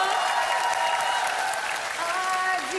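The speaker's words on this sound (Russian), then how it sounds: "Ну, это просто аплодисменты." Studio audience applause on a TV singing competition, a continuous dense clapping wash heard at steady volume, with faint musical tones running underneath.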